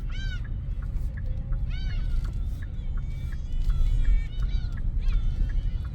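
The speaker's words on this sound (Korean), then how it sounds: "갈매기 소리 좋아요." Repeated high, wavering seagull cries ring out over a steady low ship engine rumble, with a few calls overlapping and some faint voices in the background.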